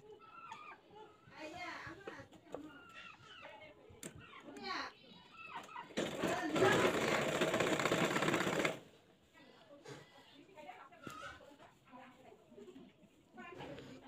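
A sewing machine stitches a child's skirt with a narrow seam, a steady whirring burst of about three seconds in the middle, with someone talking before and after it.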